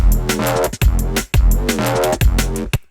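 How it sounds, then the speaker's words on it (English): A heavy, growling neurofunk synth bass made in Phase Plant from sine and triangle waves pulses in rhythmic bursts over punchy drums, loud and continuous with brief gaps between phrases. "here is the phase plant bass that we're going to be covering today."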